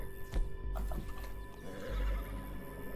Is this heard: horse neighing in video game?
yes